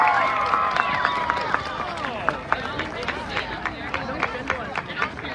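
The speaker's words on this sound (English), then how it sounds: "Please help me give the U32 Choir a big round of applause" An audience at the Vermont State House tree lighting ceremony claps for the U32 Choir. The applause is crowd clapping with a rhythm of many quick hands, mixed with some background murmur.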